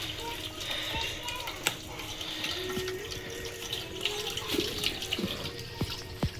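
Coconut water splashes and trickles as a face is washed with it, with small drips and splashes close by and voices murmuring in the background.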